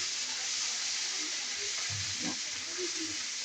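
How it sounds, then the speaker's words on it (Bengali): A spoonful of ginger frying in a pan while being stirred gives a steady, even sizzling hiss throughout, with brief scraping stirs and a faint voice in the background. "পরিমাণ মতো আদা দিলাম, 1 চামচ। এবারে ভালো করে আমি কষায় নেব।"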